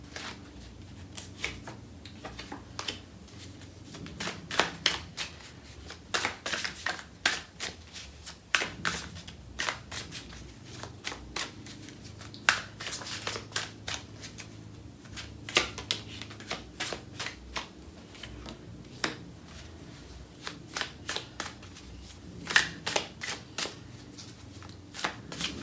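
Tarot card decks being shuffled by hand, with dense papery riffles and slaps that run continuously in irregular bursts, close and clear, with no talk.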